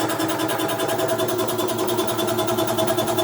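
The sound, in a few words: air compressor motor running, building up pressure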